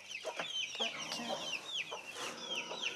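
Several chickens cluck and squawk close by in a busy, overlapping chatter, with rising calls and occasional sharper cries.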